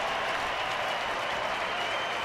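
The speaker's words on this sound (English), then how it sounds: "Now the crowd starting to get a little bit excited with JJ Putz" A steady wash of applause and cheering from a baseball stadium crowd at a Cubs at Diamondbacks game, dense and continuous throughout with no distinct voices standing out.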